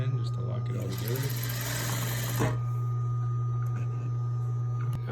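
A sewing machine runs a fast, steady stitch through fabric mask ties for about two seconds, then stops, leaving a constant low electrical hum with a few small clicks.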